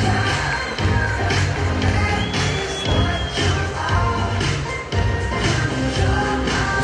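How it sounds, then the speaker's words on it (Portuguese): Audience applause and cheering at a plus-size pageant evening-gown round, a dense crowd of clapping and shouts that stays loud and steady the whole time. "Cadê os aplausos nela, gente?"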